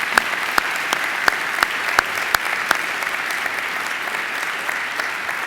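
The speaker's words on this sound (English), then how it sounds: "I think she deserves another great round of applause" Graduation-ceremony audience applause for the singer Angela, a dense, even wash of many hands clapping that carries on steadily, with a few sharper individual claps standing out near the front.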